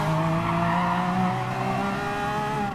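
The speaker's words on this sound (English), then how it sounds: "I tried braking as hard as I could." Loud, sustained tire squeal from a car skidding under hard braking in the Gran Turismo Sport racing game, a steady screech with engine tone running through the whole stretch, no talking.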